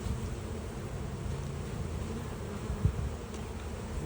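Honeybees hum around a hive fitted with an escape board, a continuous close, dense buzz that holds steady with slight swells, and no voices.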